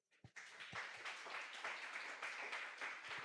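A church congregation claps together in a dense burst of applause, many hands close and fairly loud, steady for a few seconds after a sharp first clap, with no talk over it.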